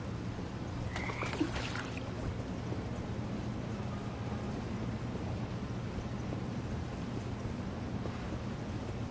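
Toads croak in What Remains of Edith Finch, a dense, continuous low chorus under windy ambience, steady and moderately loud throughout.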